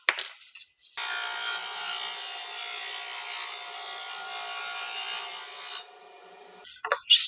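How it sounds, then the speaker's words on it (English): A table saw briefly cutting a thin strip off wooden trim, a steady whirring rasp of about five seconds with short thuds before and after. "So we're gonna zip that part off on the table saw."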